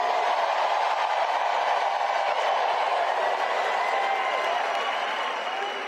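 Massive crowd at a Detroit, Michigan campaign rally roaring and cheering in a steady, sustained wash of noise that fades slightly at the end, heard from a distance.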